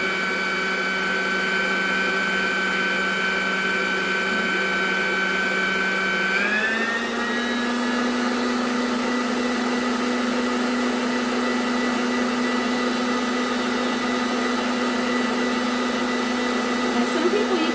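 An electric mixer beating cheesecake batter runs with a continuous loud whirring hum, its pitch shifting once partway through and then holding steady to the end.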